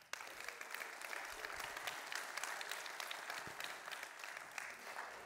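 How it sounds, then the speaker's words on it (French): An audience at a centenary celebration event welcomes Jean-Pascal de Peretti with sustained, even applause, dense clapping that carries on for about five seconds with a few louder individual claps. "merci d'applaudir Jean-Pascal de Peretti"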